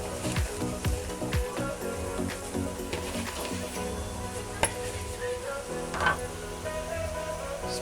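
Dry red chilies and green chilies fry in a pan of oil, giving a soft continuous sizzle with scattered clinks and taps of a utensil against the pan, fairly close and moderately quiet.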